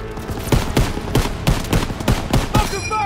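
Rapid bursts of machine gun fire in the World War II shooter Call of Duty: WWII, loud and close, repeating in short volleys roughly every half second amid battle noise.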